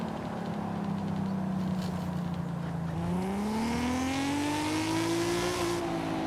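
A Nissan engine in Forza Horizon 5 revving up to 8,000 RPM, dipping briefly before sweeping upward to a strained high whine, loud and continuous with no voices.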